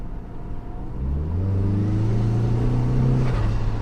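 A tuned Saab 9-5 in sport mode accelerates hard, its engine note climbing steadily in pitch as it pulls, a loud continuous rumble from inside the car with no talking.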